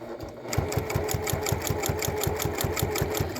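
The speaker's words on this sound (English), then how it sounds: "I'm going to stitch on the front side of the quilt" A Bernette 08 sewing machine runs steadily while stitching binding on the front of a quilt with a narrow foot, giving a fast, even mechanical chatter up close after a brief quiet start.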